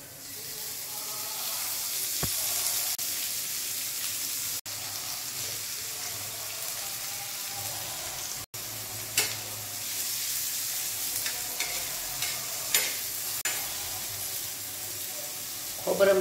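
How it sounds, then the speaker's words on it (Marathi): Chopped onion, grated coconut, cashews, peanuts and sesame seeds roasting in a pan give a soft, steady sizzle with occasional scraping and stirring clicks, fairly quiet and without talk. "त्याच्यासाठी हा बारीक चिरलेला कांदा, खोबरं किसलेलं, 4 काजूचे दाणे, थोडेसे शेंगदाणे आणि तीळ याचं मी वाटण करण्यासाठी आता हे भाजून घेते चांगले।"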